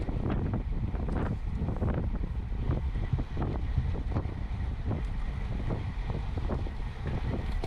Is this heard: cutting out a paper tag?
no